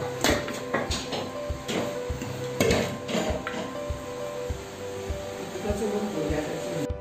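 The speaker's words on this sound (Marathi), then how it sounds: "आणि ह्याचे तुकडे पाडते." Knife edge and metal plate clinking and scraping as a baked Malvani cucumber cake (dhondas) is cut into pieces on a plate, with irregular close taps and clatter over a busy kitchen background.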